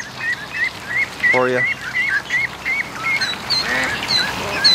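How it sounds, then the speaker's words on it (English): Geese and ducks honk and quack repeatedly along a creek, a steady stream of calls with one deep honk standing out, while someone speaks briefly nearby. "And the geese are headed up the creek."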